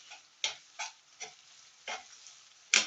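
A spoonful of minced garlic hits a hot frying pan, giving short, separate bursts of sizzling in an uneven rhythm, close and fairly loud against near silence.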